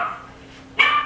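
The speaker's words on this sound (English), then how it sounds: "Probably a dog." A dog outside in a garden gives a single short bark at the end, preceded by a quieter whine-like sound, heard from some distance.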